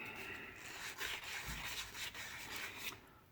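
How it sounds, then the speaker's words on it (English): A scrap piece of 220 grit sandpaper scuffs acrylic pen blanks in short, quick rasping strokes, close and quiet, with no voices. "So just a little scrap piece of 220 sandpaper. Just want to scuff scuff these up."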